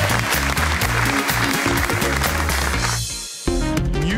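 An audience claps loudly and continuously on a Tunisian TV magazine show, dense applause over a strong rhythmic music bed that dips briefly near the end.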